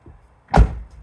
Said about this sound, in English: So now when the door opens and closes, it gets a vibration sensor